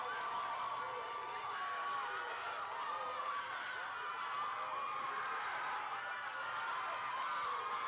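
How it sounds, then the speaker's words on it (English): Arena crowd at the Cheerleading Worlds roaring and cheering steadily as a small all-girl cheer team takes the mat, a dense, continuous wall of distant voices and whoops with no break. "You can hear the crowd going insane for them as they take the mat."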